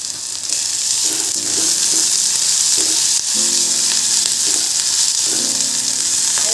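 Onion and green chili thecha with garlic and a little turmeric fries loudly in a pan, a dense steady sizzle with soft scraping stirs every second or so, close up and without any voice.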